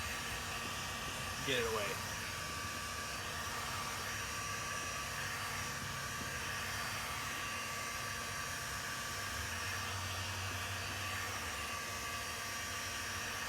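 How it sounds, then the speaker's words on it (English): A heat gun warms a vinyl taillight divider decal on a Dodge Challenger, producing a faint, steady blowing hiss throughout, with a brief spoken remark early on. "So we'll use the heat gun and again help"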